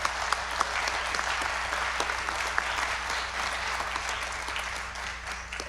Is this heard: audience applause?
yes